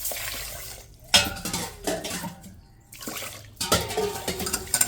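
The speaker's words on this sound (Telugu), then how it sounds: "ఒక గ్లాస్ బియ్యం శుభ్రంగా కడిగి ఉంచాలి" A glass of rice is rinsed in water in a metal pot, with bursts of sloshing and splashing and light clinks of the vessel between short pauses.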